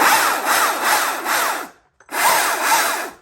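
A Stihl MSA 220 C battery-powered electric chainsaw cuts through wood with a loud, close rasping grind in two bursts, briefly stopping in between.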